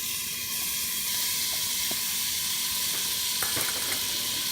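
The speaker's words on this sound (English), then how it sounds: "Now we will cook the bacon. So we don't need to put any oil. We're gonna make this bacon crispy." Bacon crisps in a dry pan with no oil, a soft continuous sizzle and hiss with faint crackles and a few light clicks near the end, no talking.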